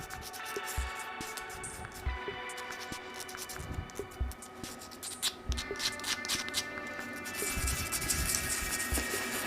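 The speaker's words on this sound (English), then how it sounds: "I'm just going to give the bottom of this knot a little touch up with a bit of rough sandpaper" Rough sandpaper rubs the base of a knot on a burl shaving brush handle, giving quiet, uneven scratchy strokes in a loose rhythm, close by, with soft handling noises between passes.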